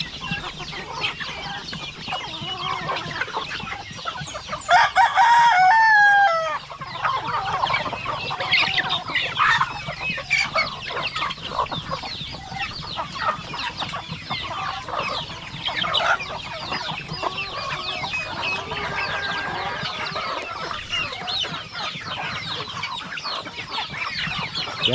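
Chickens cluck and call continuously in a farmyard, joined by a louder crowing burst partway through, close and lively, with no talk.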